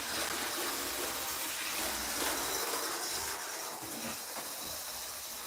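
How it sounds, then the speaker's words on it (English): A model train, a Lifelike F unit diesel, runs past on a layout with a steady broadband hiss and rumble that holds at an even level from start to finish, with no talk. "we can have some shots of the train running by"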